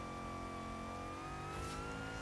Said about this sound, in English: I just love how you can hear the revs pick up